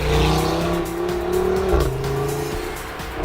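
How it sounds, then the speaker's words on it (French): A red Audi RS3 driven hard through winding mountain roads in the Provençal hills, its engine a loud, close, steady roar that dips in pitch as it shifts, with a hint of tyre noise. "au volant de notre Audi RS3 rouge, on fait trembler les monts et vallées de l'arrière-pays provençal"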